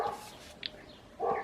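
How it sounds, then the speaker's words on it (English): A big dog next door gives a few deep woofs, heard as short separate bursts from some distance, moderately quiet. "you can hear it's got that big woof. Oh, it's a big dog of some sort."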